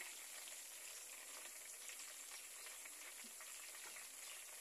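Sliced bananas deep-frying in hot oil, a steady, even sizzle and crackle that holds without pause at a low, close level, with no talk.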